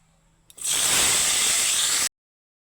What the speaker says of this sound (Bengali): ক্যাপসিকামগুলো একটু হালকা ভেজে নেব